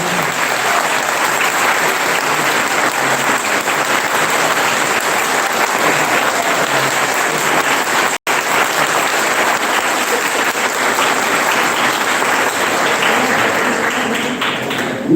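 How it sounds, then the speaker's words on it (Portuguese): Sustained, steady applause from a congregation at a church festival Mass honoring São João Bosco, dense and even throughout with one brief dropout midway. "Eu peço para eles uma salva de palmas."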